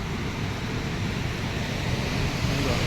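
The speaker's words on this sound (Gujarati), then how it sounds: "પાણી કેવું હેડા, જબ્બર પાણી હેડા" Water rushes through two fully opened gates of the Mukteshwar Dam on the Saraswati river, a loud continuous roar with a broad, steady wash and no speech.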